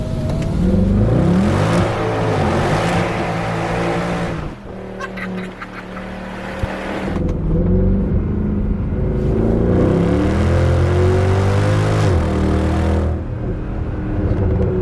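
A Mercedes W204 C63 AMG revs hard while driving, its loud engine roaring and climbing through the gears, then briefly dropping back before surging again in long, sustained pulls.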